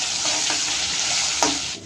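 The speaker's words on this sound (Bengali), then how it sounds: "দেখো কত দুধ দিয়ে ভাজছে" A long metal spatula stirs food frying in milk in a pan at home, giving a steady close sizzle with occasional scraping strokes throughout, no talking.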